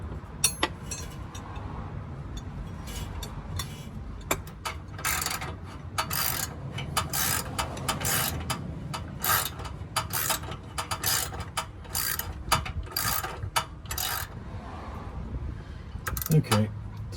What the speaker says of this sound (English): back to my 12mm wrench, my socket with the wobble joint